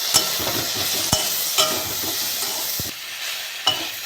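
Jujubes stir-fried in hot oil with salt and turmeric for a pickle, a steady sizzle with scraping stir strokes and sharp clicks of the spatula on the pan.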